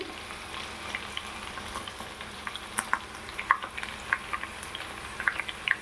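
Garlic and dried red chillies frying in hot oil as a tempering for tomato pickle, a soft steady sizzle with small sharp pops and crackles scattered throughout, close and quiet.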